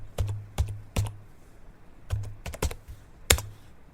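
Commands typed on a computer keyboard for a Windows 11 fix, with a handful of crisp, separate key clicks in uneven bursts and short pauses between them, close and alone in a quiet room.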